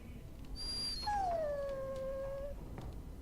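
A dog in the video game Dragon Age: Origins lets out a high, drawn-out whimpering whine that slides downward and fades, heard alone over a faint game ambience.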